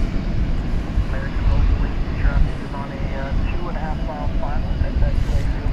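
A jet airliner on Turkish Airlines flight 192 bound for Istanbul, passing at night near DFW Airport, sounds as a steady broad engine roar mixed with wind, with faint talk over it throughout.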